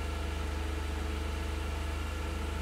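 A Ford 2.5L balanced engine with an IMCO fuel system idles in a truck, giving a smooth, steady low hum with a fast, even pulse and no change throughout.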